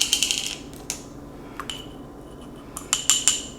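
A spoon clinks rapidly against a glass while magnesium is mixed into tart cherry juice, several bright tinkling bursts at the start and again near the end with quieter stirring between.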